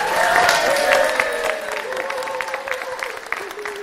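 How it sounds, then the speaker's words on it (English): An audience in the Empire Room at the Adelphi applauds at the launch of the Percy Phillips exhibition, loud close clapping from a crowd that tapers off gradually while a voice sounds over it. "can you give a big hand and the biggest applause he's ever had in his life"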